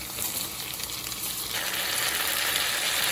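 Rice with garlic fries in a pan for cilantro lime rice, giving a steady, close sizzle that grows brighter and louder about halfway through, with no talking.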